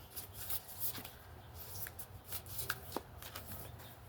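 A deck of oracle cards is shuffled by hand in a quiet room, giving a soft, steady riffling and papery flutter with a few sharper card snaps near the end. No one speaks.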